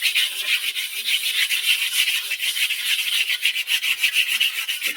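Rapid hand rubbing or sanding, likely on wood, as a fast, even back-and-forth rasping continues without a break at close range, with no voices.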